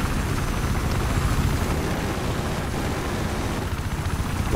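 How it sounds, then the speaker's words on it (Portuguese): A helicopter in Battlefield 4 multiplayer gives a loud, steady rotor and engine roar that fills the whole stretch without a break. No talk is heard. "todo mundo no meu helicóptero já"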